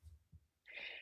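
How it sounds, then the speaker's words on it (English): A person's sneeze during a podcast conversation: a brief low intake, then a sharp, loud burst of breathy noise, close to the microphone, with no talk over it. "Sneeze coming."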